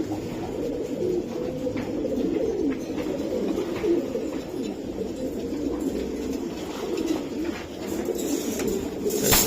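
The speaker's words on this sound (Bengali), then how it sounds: "অনেক সুন্দর কবুতর" Racing pigeons coo steadily in a loft, several birds overlapping in a continuous, moderately close murmur of soft throaty calls with no talking.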